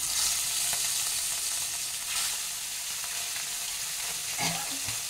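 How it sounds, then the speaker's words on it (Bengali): Pieces of rohu fish fry in hot white cooking oil, giving a loud, continuous sizzle with a few faint clinks near the end. "এবার এই মাছগুলোকে আমি একে একে এই তেলের মধ্যে ভেজে নিচ্ছি।"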